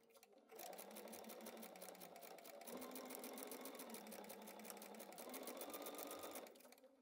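A sewing machine stitches fabric banner pieces, a fast steady mechanical whir close by that runs for several seconds before stopping, with no talking.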